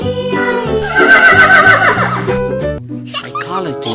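A red toy horse gives a loud, strident electronic neigh lasting about three seconds, followed by a shorter, thinner whinny tail.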